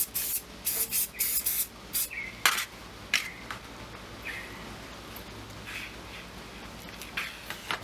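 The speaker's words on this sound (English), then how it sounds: "probably could have used a little bit more hairspray" Hairspray hisses onto a Scott Bonnar 45 motorcycle handlebar during assembly, in a series of short close bursts followed by light metallic handling sounds.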